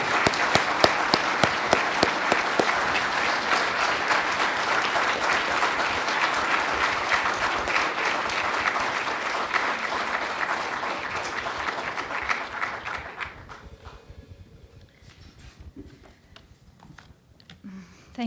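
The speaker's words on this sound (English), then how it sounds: "Please, let's give a round of applause to Yegi" A large audience at an evening welcome-home event gives a sustained, loud round of applause that lasts about thirteen seconds before thinning out to scattered claps.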